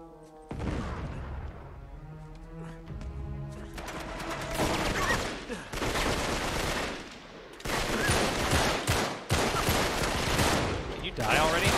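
Rapid bursts of automatic gunfire and shots from the action game Uncharted: The Drake Collection, loud and near, coming in dense volleys over about twelve seconds with brief gaps, mixed with other game sounds.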